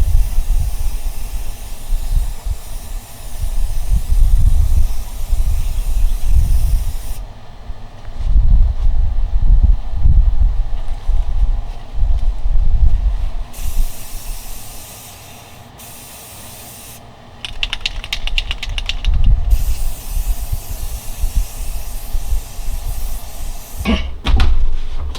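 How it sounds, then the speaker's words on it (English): Spray paint hisses in long, loud, close bursts as a coat goes onto a small wooden pet memorial cross, with brief pauses between passes and no talking. "Just putting another coat of paint on it."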